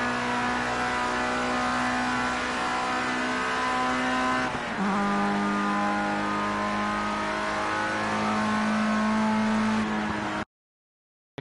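Formula rookie race car in Project Cars 2, its engine screaming at high revs with a sharp dip at a gear change midway before climbing again, loud and continuous with faint tire noise and no talk.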